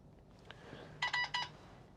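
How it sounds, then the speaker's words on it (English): Two short bright electronic beeps from the audio system of a 2018 Skoda Fabia sound in quick succession, faint and clean in an otherwise quiet car cabin. "the system beeped"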